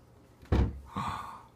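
A door swings and shuts with a solid thump, followed by a softer second knock or latch sound as it is moved again indoors.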